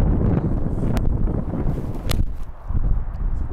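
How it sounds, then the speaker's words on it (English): Strong wind roars across the microphone on a golf course, a loud, continuous low rumble with a couple of sharp knocks mixed in. "this wind is serious"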